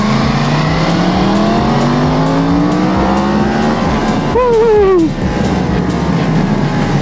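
A motorcycle accelerates hard out of a tight hairpin on a mountain road, lifting into a slight wheelie, its engine note climbing steadily, then surging in a brief loud rising rev before settling into a steady drone.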